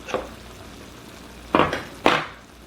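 Sauce for a fold over tortilla bake is spooned into a pan in three short scraping bursts, one faint and two louder ones close together near the end, with quiet pauses between.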